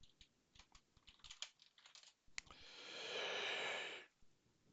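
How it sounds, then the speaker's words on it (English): Rapid clicking keystrokes on a computer keyboard, close and fairly quiet, tapping in an uneven burst before a short rushing noise, then one last key click. "I'm just typing this into a smart engine."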